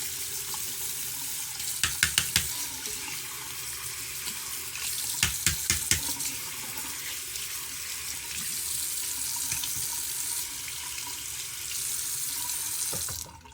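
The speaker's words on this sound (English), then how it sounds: "Or you could just go straight to rinsing it off, because it is waterproof." Waterproof electric shaver head rinsed under a running tap, a steady hiss of water pouring with a few brief clusters of clicks as the parts are handled, close and alone.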